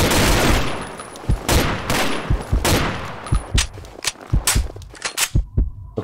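Gunshots ring out in the Hunted mode of a shooter video game, a loud burst of rapid fire followed by spaced single and double shots, sharp cracks standing alone without talk.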